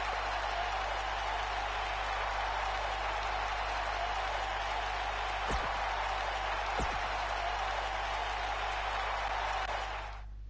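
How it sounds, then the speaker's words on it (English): Wrestling arena crowd in the video game WWE 2K19, a dense, steady roar of cheering and applause that stays loud and unbroken throughout, with a low hum beneath and no clear talking. "The crowd is buzzing."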